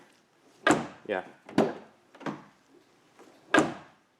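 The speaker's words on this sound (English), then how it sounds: "It's a good quality door closure" Several sharp thuds of a BMW E32 or E34 car door shutting, spaced irregularly, with a short voice between them.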